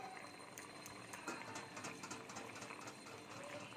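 Fish curry with cauliflower and potato simmers in a pot, a quiet continuous bubbling with soft irregular pops throughout and no voices.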